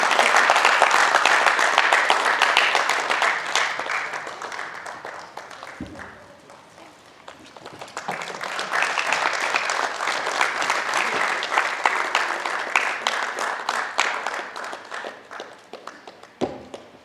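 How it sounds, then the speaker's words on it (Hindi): An audience at a stage event claps vigorously for several seconds, fading briefly before swelling again into sustained applause, with a few isolated louder claps near the end. "आप लोग भी जोरदार तालियां बजा दीजिए।"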